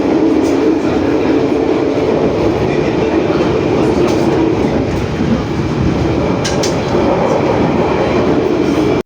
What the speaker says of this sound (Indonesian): kereta api Turangga Panoramik sudah lepas landas ya teman-teman dari stasiun Surabaya Gubeng